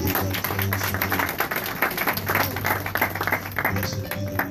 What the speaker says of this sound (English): Let's give this music ministry a round of applause and give that praise to you.